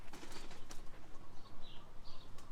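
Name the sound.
young pigeons landing, wings flapping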